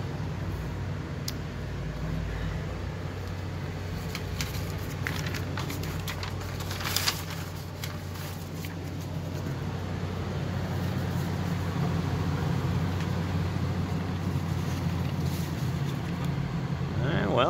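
A DIY garage shop air filtration fan runs with a steady, droning hum and broad whoosh of moving air that holds constant and grows slightly louder toward the end, while a person talks intermittently over it.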